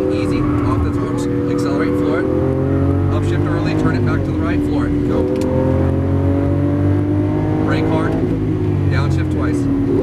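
A Lamborghini Aventador engine accelerating hard at full throttle, loud and close, its pitch climbing and shifting through gears across the stretch with a steady roaring drone.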